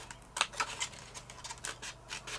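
Scissors trimming paper notecards from a 12 x 12 pad, heard as a run of quick, close snips and crisp paper rustles, each cut short and light, with no one talking.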